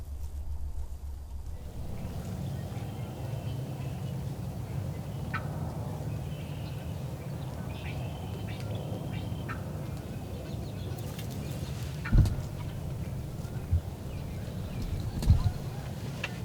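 Young wild turkeys (jakes) gobble at a distance during a late-season hunt. A few faint gobbles and clucks rise over a low rumbling outdoor background, with sharper bursts near the end.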